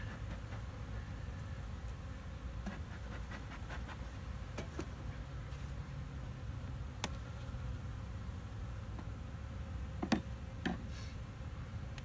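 Honeybees hum in a low, continuous drone from a queen castle hive holding six frames of bees, with faint scattered ticks and clicks over the buzz.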